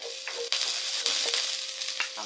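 Onion sizzles steadily in hot oil in a Filipino home kitchen, after ginger and garlic have gone into the pan, with a constant crackling hiss broken by a few sharp stirring clicks and scrapes.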